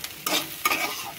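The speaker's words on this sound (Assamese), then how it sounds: "এতিয়া মই এইটো আদা আৰু ধনিয়া পাতটো দি একেলগতে মিহলাই" Ginger and coriander leaves being mixed into an Assamese pitika, two brief close scraping, rustling strokes with quiet gaps in between.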